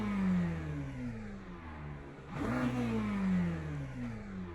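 A McLaren GT3 race car in the Le Mans Ultimate sim game revs with sweeping engine pitch that rises, dips sharply near the midpoint, then climbs again, loud, close and steady, with no talk.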